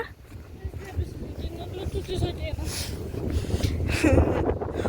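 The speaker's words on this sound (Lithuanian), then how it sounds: "Taip atrodo vėjas kyla." Gusty wind rumbles and buffets the microphone throughout near water in Ukmergė, Lithuania, growing stronger toward the end, with faint voices now and then.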